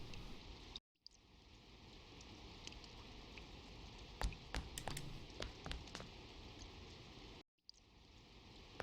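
Steady rain falls in the Persona 4 video game, a soft, even patter with scattered sharper drop ticks, broken by two brief silent cuts, with no voices.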